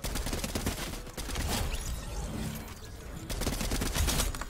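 Gunfire in a video game comes in rapid bursts of repeated shots that are fairly faint and sit in the mix, with a short lull in the middle.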